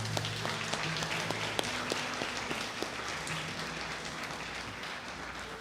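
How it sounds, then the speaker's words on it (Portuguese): Congregation applauding the Lord in a church service, steady sustained clapping with a low hum of music or organ underneath, moderately loud throughout. "Aplauda ao Senhor aí."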